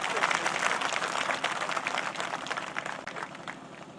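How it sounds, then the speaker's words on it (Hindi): Applause from a crowd at an election rally in Mukerian, Hoshiarpur, Punjab: dense continuous clapping, loud and close at first and slowly thinning toward the end. "मैं आप सबसे निवेदन करना चाहूंगा कि एक ताली जो है हमारे पार्टी के प्रत्याशी जंगी लाल जी से जोरदार ढंग से होनी चाहिए"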